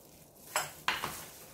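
A spoon stirs and scrapes through a Thai-style boneless chicken feet salad with garlic in a bowl, giving two or three brief, close clinks and scrapes against quiet.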